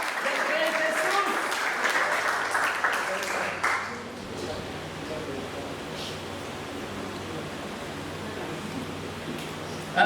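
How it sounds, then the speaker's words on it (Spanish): Church congregation applauding during a service, a dense burst of clapping for about four seconds that then drops to a quieter room wash with scattered voices and faint lingering claps. "Dale un fuerte aplauso al Rey Jesús."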